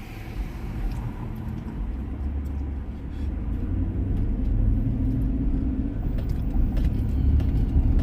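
A car turns at a downtown Los Angeles intersection at night, its low engine rumble steady and moderately close amid the broader hum of city traffic.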